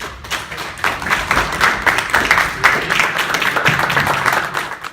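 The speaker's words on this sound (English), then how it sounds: "So let's give her a round of applause" An audience at a police commendation ceremony gives a round of applause, dense, steady clapping from many hands that holds at a lively level for several seconds, heard fairly close.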